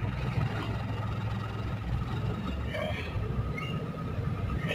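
A 2001 Daihatsu Taruna engine cranks and catches, settling into a steady low rumble that runs unbroken throughout, with a voice speaking over it.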